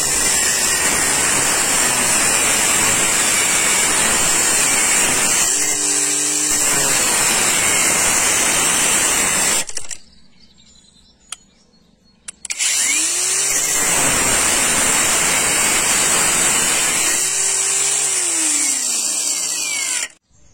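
A Parkside Performance PWSAP 20-Li C3 cordless angle grinder, running on a fully charged 2 Ah battery, whines loudly and steadily through two long cutting passes. Its pitch dips briefly under load, and a short quiet pause separates the passes.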